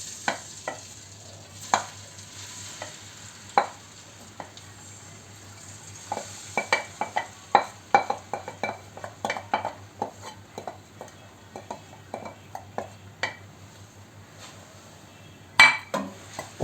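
Grated turmeric cooks in hot ghee over medium heat, a faint low sizzle beneath repeated clinks and scrapes of a spoon stirring against the pot, with bursts of rapid stirring.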